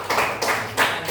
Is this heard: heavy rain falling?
no